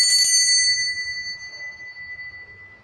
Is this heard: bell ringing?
yes